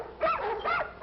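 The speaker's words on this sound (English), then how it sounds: "All night long, those dogs barking." Two dogs barking through the night in a neighborhood, heard as two loud barks with a third starting at the end, close and clear with no talk.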